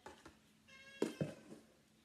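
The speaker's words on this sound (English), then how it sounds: "I've got my cat here crying again as usual." An indoor house cat cries to be let out, giving a couple of near, plaintive meows in quick succession amid faint background noise.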